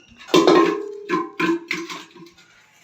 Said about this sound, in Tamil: மெஸ்ஸி வந்து சட்டி வானிலாம் வந்து எடுத்து விளையாட்டு நடக்குது, அதான் சத்தம் கேட்குது